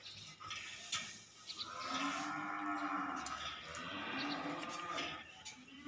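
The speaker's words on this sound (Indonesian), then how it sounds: "2 ekor sapi jenis Brahman" Brahman cattle moo in a farm pen, a deep, drawn-out lowing call that swells from about two seconds and holds steady to the end, close and fairly loud with faint background clatter.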